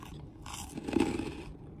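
Crisp crunching and chewing of a cheesy snack close to the mic, a brief burst of crackly bites in a quiet room.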